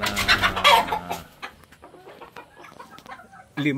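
Several hens, two of them Kelso hens, cluck loudly and close at hand, in bursts of repeated calls early on. Quieter clucking and rustling follow, then a sudden loud cluck near the end.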